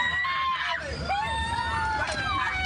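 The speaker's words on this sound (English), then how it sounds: "took this video of the screams and cries in the seconds after contact" Children screaming and crying right after a train struck a school bus: overlapping high, wavering shrieks and wails from several young voices, loud and close, over a murmur of frantic commotion.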